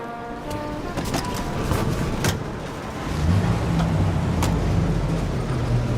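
A car drives along at steady speed, its engine and road rumble continuous and close, with a heavier low drone swelling in after a few seconds.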